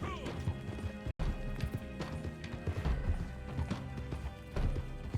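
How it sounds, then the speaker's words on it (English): Horse hooves clop along in Red Dead Redemption 2 Online, a steady run of hoofbeats with a whinny and game sounds mixed in, briefly cut by a split-second dropout near the start. "It's a horse."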